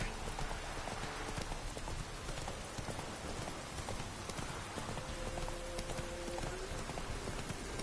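Geralt's horse Roach galloping in The Witcher 3, steady rapid hoofbeats clip-clopping loud and close throughout, with a faint rain-like wash and a brief tonal sound near the end.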